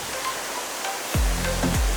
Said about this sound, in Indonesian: Spot lain yang menarik untuk dikunjungi adalah air terjun Janji.